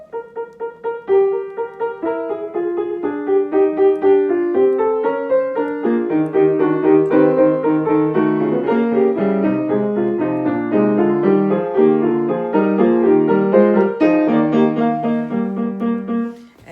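Piano plays the fugue subject and chromatic counter subject of Beethoven's Diabelli Variations together, several interlocking voices moving in steady, even notes that thicken into dense counterpoint midway, played alone with no talking.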